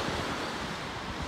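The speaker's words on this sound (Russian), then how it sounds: "Вот оно, собственно говоря, и есть море" Sea waves washing onto a beach in Sochi, a steady broadband surf rush with some wind noise, fairly close and continuous with no talk.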